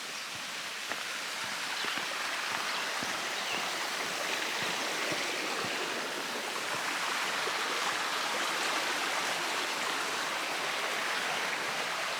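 Hemlock Creek water flowing in a steady, full rush in Laurel Hill State Park, a continuous bright splashing hiss that never lets up.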